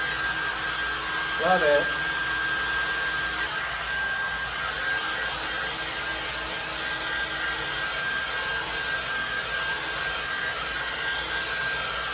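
A hairdryer blows a steady, loud whooshing hum across the whole stretch while drying thick paint on an art demo piece, with a brief spoken remark early on.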